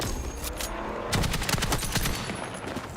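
Heavy-recoil weapon firing in an online shooter game, rapid bursts of gunshots through most of the stretch, loudest in a dense run near the middle, steady and close with no talk.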